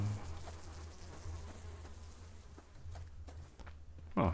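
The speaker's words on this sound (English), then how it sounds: "Sometimes those bees can be pretty persistent and following you way too long." Bees from the Subsistence survival game swarm close by, a continuous buzzing drone that swells and fades as they circle, with a few faint clicks and a louder burst at the end.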